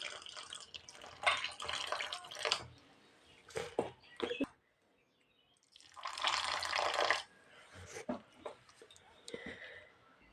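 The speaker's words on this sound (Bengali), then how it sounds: "এখন আমি এখানে জল দিয়ে দিচ্ছি।" Water is poured and stirred into a rice flour batter in two main bursts of splashing and trickling, close and fairly faint, with short drips and quiet gaps between.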